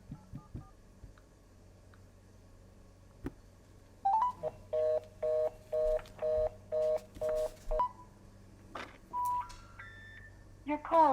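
Telephone keypad tones during a customer service phone call: a run of about nine evenly spaced, steady DTMF beeps, clear and close, followed by a few more higher beeps after a brief pause, with a faint line hum underneath.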